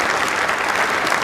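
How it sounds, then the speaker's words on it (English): Steady, full applause from a large audience in a formal hall for the Queen's Diamond Jubilee address, a dense patter of clapping throughout. "once the applause has died down"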